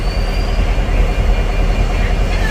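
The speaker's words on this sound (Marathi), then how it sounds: "सावंतवाडी दादर ट्रेन बघूया आता कुठली ट्रेन सुटते ती" A Sawantwadi–Dadar train rumbles steadily nearby as it pulls out of Sindhudurg Nagari station, heavy low rolling noise with a faint wheel squeal near the end.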